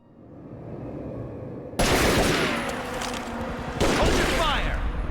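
Gunfire in the video game Tomb Raider: Legend comes as two sudden loud bursts of rapid automatic fire over a low rumbling background, close and dense, with voices mixed in.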